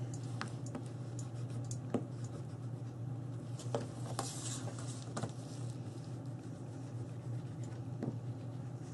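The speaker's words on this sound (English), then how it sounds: "And then burnish in the fold line gently." A bone folder burnishes a fold line in paper for a dog house box, giving faint, soft scraping and rubbing strokes with scattered light ticks over a low steady hum.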